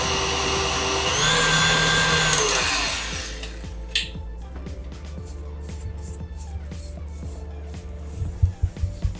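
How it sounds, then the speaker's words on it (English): Stand mixer whirring on a slow setting as it blends sifted icing sugar for vanilla cupcake frosting, a steady motor hum that drops off partway, followed by quieter clinks and tapping against the bowl. "you want to turn your mixer on slow first so then the icing sugar doesn't fly"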